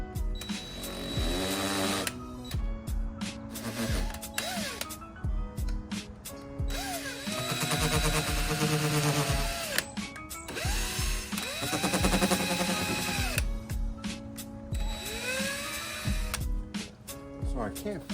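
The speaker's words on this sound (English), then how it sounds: "So now I'm gonna drill holes to put the screws." A power drill bores screw holes for mounting a carbon fiber air vent on a Mazdaspeed, whining in repeated loud, close bursts that rise and fall in pitch, with brief pauses and clicks between runs.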